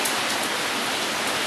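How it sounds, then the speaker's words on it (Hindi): Heavy rain pours outdoors in Islamabad, a dense, steady hiss that stays loud and unbroken throughout. "अभी देखो बाहर बहुत सख्त किस्म की बारिश हो रही है"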